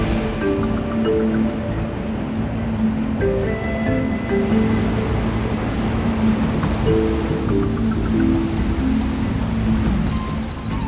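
The Iguaçu waterfalls, seen from the Brazilian side, give off a loud, steady roar of falling water that holds at the same level throughout, with no voices over it.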